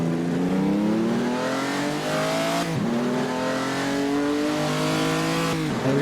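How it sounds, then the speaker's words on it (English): Ferrari Dino race car in the Assetto Corsa racing game, engine screaming through repeated upshifts as pitch climbs and drops, loud and close with no talking. "I'm gonna be racing with a Ferrari Dino"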